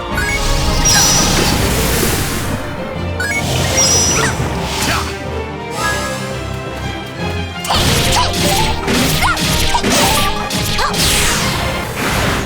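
A fire blast spell attack in the Eternal Sonata battle, loud crashing and whooshing bursts of effects layered over game music, with repeated impacts running across the whole stretch.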